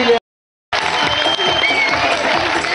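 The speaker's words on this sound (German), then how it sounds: "Und jetzt nochmal einen ganz, ganz kräftigen Applaus für das Team EHS" Audience applause at a knights' tournament event at a castle, a steady dense clapping wash after a brief gap of silence, loud and close with crowd noise throughout.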